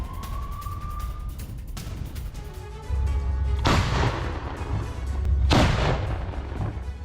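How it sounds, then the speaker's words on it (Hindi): Two heavy Russian artillery blasts boom several seconds apart over a low, steady rumble, loud and broad, during shelling in Kherson, Ukraine. "रूस की तोपों ने आग उगली है"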